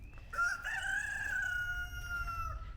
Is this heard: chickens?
yes